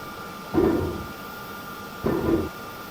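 Two muffled mechanical thuds with a brief clanking rumble, about one and a half seconds apart, over a faint steady hum, as 2,000-pound JDAM bombs are loaded into a B-2A Spirit's bomb bay in Microsoft Flight Simulator 2020.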